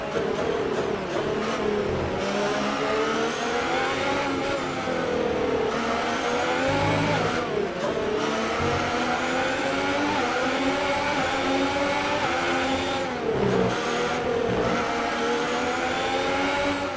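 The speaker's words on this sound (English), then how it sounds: "We're not going to be able to run in this engine mode much longer." Ferrari Formula 1 car engine in the F1 2018 racing game at the Abu Dhabi Grand Prix, a loud continuous high-pitched whine with rising and falling revs and brief dips at gear shifts, running steadily throughout.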